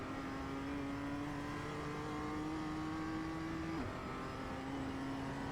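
A BMW M2 engine in the iRacing sim at Summit Point's Jefferson circuit holds a steady, droning pitch under acceleration, then drops sharply at a gear change before climbing again.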